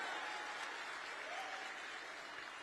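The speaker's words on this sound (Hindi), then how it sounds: "जोरदार तालियां बजाएं मेरी ओर से।" A hall full of people claps steadily at an Odisha Day event in Delhi, a thick, even roar of applause that holds level throughout.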